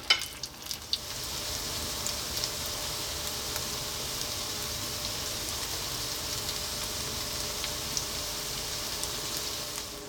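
Homemade hash browns fry slowly in a pan on low heat, giving a steady, soft, even sizzle that carries on unbroken from start to end, close by with no voices.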